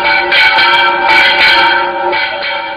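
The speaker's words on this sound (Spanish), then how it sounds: "El repique de campanas alegraba con dulce emoción sus oídos" Church bells ring loudly and close, several overlapping peals sounding in a steady, resonant rhythm.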